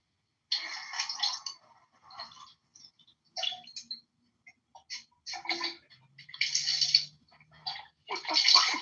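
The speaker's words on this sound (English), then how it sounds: "He's doing dishes, man." Someone washes dishes under running water, with irregular bursts of splashing and rinsing broken by brief quiet gaps, plus faint clinks, fairly close.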